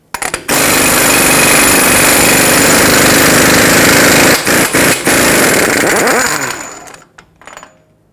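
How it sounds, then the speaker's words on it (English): A power tool, likely an impact wrench, spins a 36mm socket on the front axle nut of a 2003-2012 Chevrolet Colorado 4x4, hammering loudly and continuously for several seconds with brief stutters before stopping. "Using a 36mm socket,"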